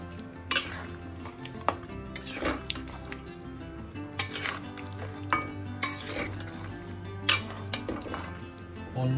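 A cooking pot of mutton curry gets its lid put back on, with metallic clinks and clatters of pot and lid plus light stirring scrapes, moderately close and with no talk.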